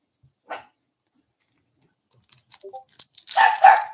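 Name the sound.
puppy barking in the background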